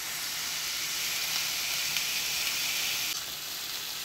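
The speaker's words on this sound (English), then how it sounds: "Oil on the grill. Fry them up." Burger patties fry on an oiled grill for a Flying Dutchman burger, giving a steady, loud broadband sizzle and hiss that holds evenly throughout with no talk.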